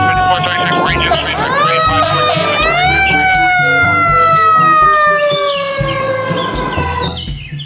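A loud toy siren wails with rising and falling electronic tones, chirpy and continuous, with faint background talk and clatter.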